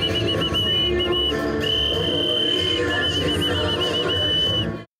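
A Ukrainian ceramic folk whistle decorated with Petrykivka painting is blown in a festival setting, giving repeated warbling trills and sustained shrill notes in several bursts over a busy background before cutting off.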